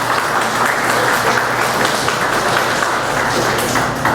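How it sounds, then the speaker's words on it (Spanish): An audience at an academic event gives loud, dense, sustained applause, a continuous roar of many hands clapping at once with no voices rising above it. "Un fuerte aplauso, por favor."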